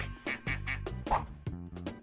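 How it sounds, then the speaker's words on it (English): A duck quacks repeatedly in quick, rhythmic nasal bursts, loud and close, about half a dozen calls in a row. "It's a duck."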